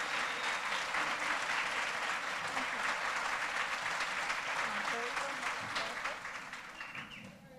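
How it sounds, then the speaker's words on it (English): A live audience applauds at an event, dense steady clapping close and loud throughout, easing slightly toward the end with a few voices mixed in. "Another round of applause for Dr."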